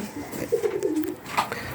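Three pigeons kept in a loft give a soft, close, rolling coo lasting about a second, fairly loud against light background noise.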